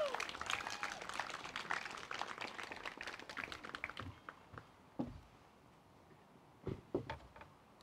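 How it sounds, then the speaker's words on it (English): A church congregation applauds as someone comes forward. Dense clapping fills the first few seconds, then thins into a few scattered claps in a quieter room. "We can give her a round of applause as she comes up."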